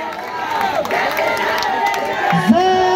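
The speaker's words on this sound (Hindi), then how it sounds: "जोरदार ताली आप लोग बजा दीजिए।" Crowd applause and cheering at a Hindu nationalist speech event, a steady wash of clapping with scattered shouts and whoops at moderate loudness.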